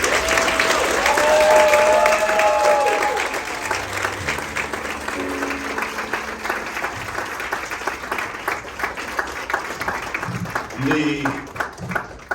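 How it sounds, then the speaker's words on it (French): Wedding guests rise and applaud Sarah and Jérémie's official marriage, a long sustained round of clapping with a voice speaking over it early on and brief talk near the end. "de vous mettre debout et d'applaudir le mariage officiel de Sarah et de Jérémie"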